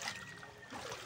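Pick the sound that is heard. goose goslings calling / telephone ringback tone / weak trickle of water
weak trickle of water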